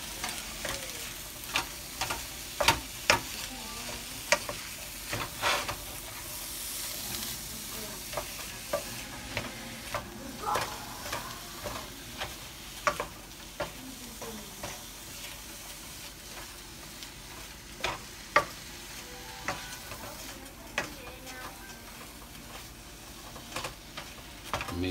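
A spoon stirs seafood gumbo ingredients in a pot with continuous soft scraping and a light sizzle underneath, broken by frequent clicks and knocks against the pot.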